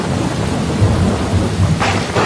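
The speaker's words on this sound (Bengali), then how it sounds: "জোরে ও প্রবল বৃষ্টি আসে, যা পৃথিবীতে এর আগে কখনো দেখা যায়নি।" Heavy rain pours steadily with a deep rolling rumble of thunder underneath, loud and continuous, with a sharper surge of noise toward the end.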